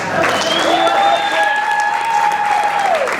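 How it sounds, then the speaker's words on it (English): A rally crowd at the Biloxi Lighthouse breaks into loud, sustained applause and some cheering. A high tone like a whistle or PA feedback rises and holds above the clapping for a couple of seconds before it fades. "So give yourselves a round of applause."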